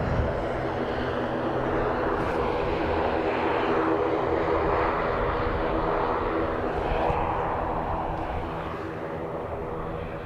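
A fixed-wing airliner at Dublin Airport gives a loud, sustained engine roar that holds steady and then eases off slightly toward the end, with no talk.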